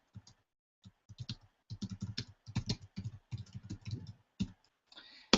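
Rapid clicking of keys on a computer keyboard, irregular bursts of typing close up with short pauses between them.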